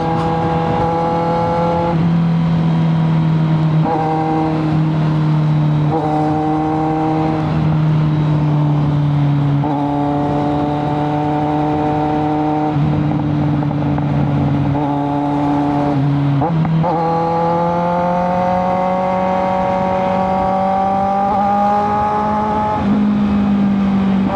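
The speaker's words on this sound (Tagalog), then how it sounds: "Namiss na nating tunog na inline 4." A loud, close inline-four motorcycle engine revs repeatedly, its pitch climbing and dropping in steady surges with brief breaks between gear changes, running continuously for the whole stretch.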